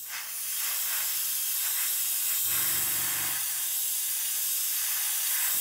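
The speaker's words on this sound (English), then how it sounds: "I'm just going to lightly fog this on. You can see now why I'm spraying on the inside" Airfix 1/48 Sea King model interior being lightly fogged with LP67 smoke paint from a spray, a steady close airy hiss running throughout with a brief low burst midway.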